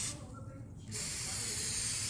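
Butter-flavoured pancake cooking spray hisses from an aerosol can in a steady close burst, stops briefly, then resumes as a continuous loud spray in a kitchen.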